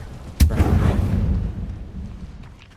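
A Confringo blasting spell in Hogwarts Legacy goes off with a sharp, loud crack followed by a deep, rumbling explosion that fades out over about two seconds.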